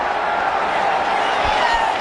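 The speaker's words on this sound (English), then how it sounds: "And the crowd loves it." A cricket stadium crowd at the Asia Cup 2012 India vs Bangladesh match gives off a steady, loud wash of roaring noise that holds evenly throughout, with no distinct peaks.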